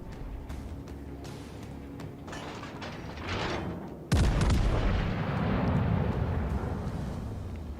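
A battleship's heavy guns fire high explosive shells in World of Warships Legends, one loud deep boom landing mid-clip after quieter rumbling and scattered distant shots, its roar lingering for several seconds.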